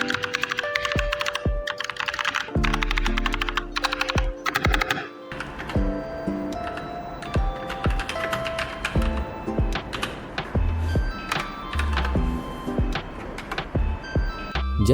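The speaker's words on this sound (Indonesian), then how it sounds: "Untuk ukuran brown switch, karakter suaranya tergolong cukup berisik, terutama dari hentakan keycap ke plate." Rapid, loud clacking keystrokes on a Rexus KX-5 V2 mechanical keyboard with brown switches, sharp keycap hits on the plate in dense bursts, slowing to more spaced, irregular taps partway through.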